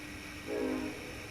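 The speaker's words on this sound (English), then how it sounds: "There's the friggin' train going by" A train passing at a distance, with a faint, steady rumble and a brief tonal horn swell in the middle, low and muffled under background noise.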